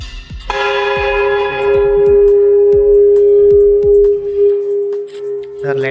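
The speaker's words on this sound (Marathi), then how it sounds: "घंटा केवढी बघा." A large bell in a village temple is struck repeatedly, its loud clangs ringing out with long, shimmering overtones that carry on between strikes and fade slowly at the end.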